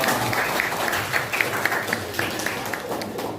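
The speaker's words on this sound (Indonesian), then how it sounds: "boleh tepuk tangan buat kelompok" A classroom of students claps for a presenting group, a dense steady patter of hands that holds at an even level for a few seconds, close and fairly loud.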